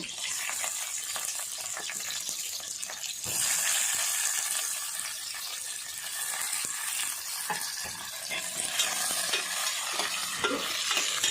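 Curry leaves and onion frying in a pan for an okra curry, a close, steady sizzle with frequent scraping stirring strokes and small crackles throughout.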